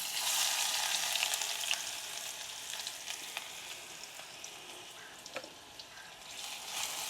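Garlic and ginger paste sizzles steadily in hot oil with cumin seeds in the pan, a dense continuous crackle with a few sharper pops and stirring scrapes, close and fairly loud throughout.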